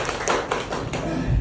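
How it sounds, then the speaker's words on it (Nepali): Brief burst of applause for Lalit sir at a gathering, with dense, close clapping and taps filling a short stretch. "ललित सरलाई जोरदार ताली"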